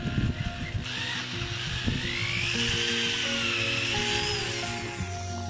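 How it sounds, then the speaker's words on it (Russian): A drill with a bit at least 2 cm wide bores channels into a wooden log, giving a steady whining drone that rises and falls in pitch, close and moderately loud, with no talk. "Принялся сверлить каналы."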